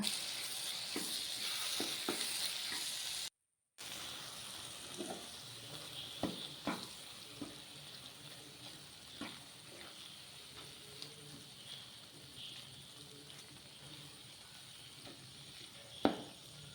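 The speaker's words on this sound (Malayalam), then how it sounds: "ഫ്രൈ ചെയ്ത് ചെമ്മീൻ ഇട്ട് കൊടുക്കുക. ഇളക്കി കൊടുക്കുക നന്നായിട്ട്." Prawns fried beforehand sizzle and crackle as they are stirred into hot biryani masala, a steady frying hiss broken by repeated scraping stirs and spoon knocks against the pan, with no one talking.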